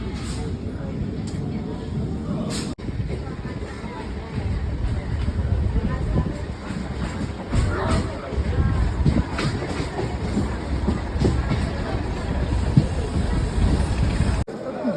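A Diamond Harbour local train out of Sealdah rumbles steadily with broadband rolling noise and wind buffeting the microphone, rising and falling slightly, with faint voices beneath.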